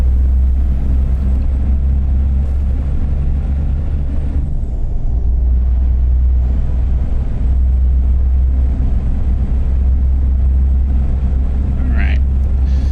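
An International Lonestar truck in American Truck Simulator holds a steady highway speed on cruise control, its deep engine drone and road rumble loud and unbroken while someone talks over it.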